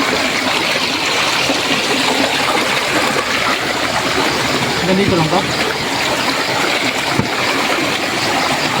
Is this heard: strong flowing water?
yes